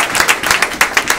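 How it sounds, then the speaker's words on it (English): Close, crisp hand claps from a small audience at a corporate training session form a quick, brief burst of about seven sharp beats. "can we give James a round of applause?"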